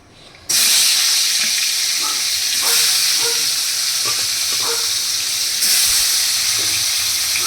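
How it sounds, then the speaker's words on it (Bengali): Three pieces of katla fish fry in hot oil in a pan, a steady loud hiss and sizzle that holds throughout, with faint pops and spatters and a few small bumps from the fish being handled. "এবার এই 3 পিস মাছটা ভেজে নিচ্ছি"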